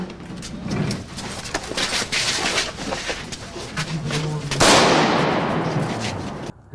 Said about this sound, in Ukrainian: Військові штурмують будівлю. Під прикриттям снайперів солдати проникають всередину. Починається стрілянина.